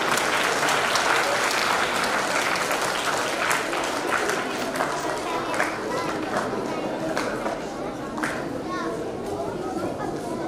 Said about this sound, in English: Give it out to the applause, please.